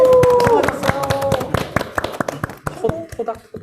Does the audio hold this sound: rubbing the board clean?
no